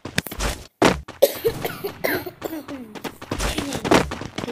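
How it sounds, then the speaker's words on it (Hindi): A person coughs several times in sharp bursts, close to the mic, in a room during Free Fire gameplay, with faint speech and game noise between the coughs. "खराब है, इसलिए खांसी आई"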